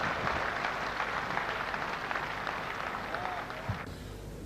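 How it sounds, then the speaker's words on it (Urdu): An audience at a Dubai mushaira gives dense, continuous applause to welcome the poet Munawwar Rana. The clapping holds steady for several seconds before it cuts off. "تالیوں سے استقبال کیجیے۔"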